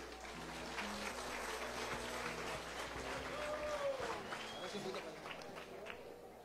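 A live audience at a Christmas lighting show in Dosquebradas claps for Tropa Teatro, steady crowd applause filling the space over background music with a few scattered voices.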